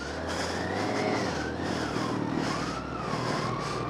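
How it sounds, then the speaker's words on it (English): A 2015 BMW K1600GTL motorcycle's six-cylinder engine revs up quickly and close, its pitch rising and dipping in smooth waves over a steady loud drone. "This thing revs up very, very quickly."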